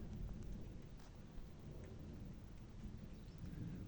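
Thunder rolls on during a storm, a low sustained rumble with faint rain-like hiss, fairly quiet and with no voices.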